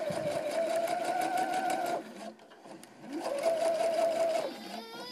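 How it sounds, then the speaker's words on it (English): A sewing machine topstitches elastic on an all-in-one cloth diaper, running in two close, steady whirring bursts with a short pause and a soft rustle between them. "You just continue to top stitch."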